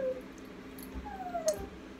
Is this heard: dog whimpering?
yes